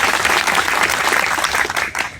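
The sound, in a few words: crowd applauding at a rally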